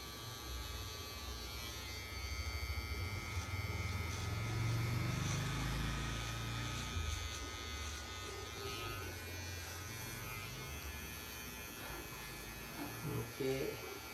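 An electric trimmer cuts hair during a beard restyling with a soft, steady close buzz that swells slightly midway, while voices talk quietly at times.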